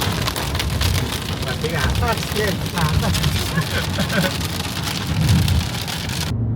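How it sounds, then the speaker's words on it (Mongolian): Heavy rain pours steadily during a trip at Lake Khövsgöl, a dense, continuous wash of drops that stays loud throughout while people talk over it. "хүчтэй бороо орж байна"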